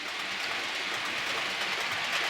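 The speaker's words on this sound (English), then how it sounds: "There's the front of the train down there, just going around the curve." A model train fitted with Hunts couplings rounds a curve on its track, giving a steady, even rolling rumble and rattle throughout, with no one speaking.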